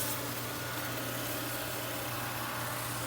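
A broken robot vacuum cleaner, under repair, runs on a table with its side brushes spinning and its exhaust blowing, giving a steady, faint, even hum and whir with no talk.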